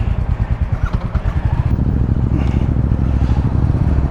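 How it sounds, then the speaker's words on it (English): A 2024 Royal Enfield Meteor 350 motorcycle sits at idle and is blipped, its single-cylinder engine thumping in a loud, close, rhythmic pulse that rises into a steadier, buzzy roar. "Just revving this bike at idle, that motor's, it's got a little bit of a buzz to it, a characterful buzz"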